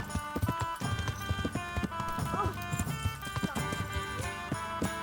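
Rhythmic clip-clop of horse hooves at a steady gait in the video game Kingdom Come: Deliverance, close and fairly loud, with a brief snort and faint voices in the background.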